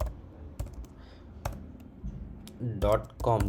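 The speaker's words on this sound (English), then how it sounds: "After this after this you have to write here site github.com." A computer keyboard being typed on in irregular clicks and light taps, which give way toward the end to a voice talking over the keystrokes.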